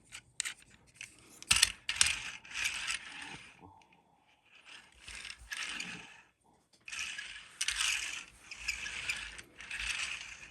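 Wheels of a Transformers Age of the Primes toy figure being rolled, close ratcheting, clicking bursts in two runs separated by a short pause, fairly quiet with no talk.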